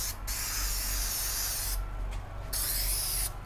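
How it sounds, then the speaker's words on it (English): Aerosol spray can hissing onto a seat cover in steady bursts, loud and close, with brief pauses between sprays and no talking. "I'm going to spray the actual cover just on the area that I'm not going to be able to get to"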